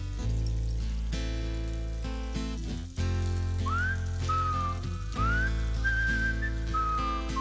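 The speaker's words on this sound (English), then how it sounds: "we don't have enough people whistling in songs nowadays." A clear whistled melody in a song rises and glides over a full, loud band backing, entering partway through and carrying a sustained tune to the end.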